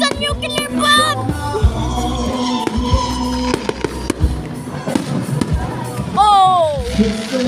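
Fireworks burst in a dense, booming barrage with sharp cracks and thuds, overlapped by excited shouting and yelling from people nearby throughout.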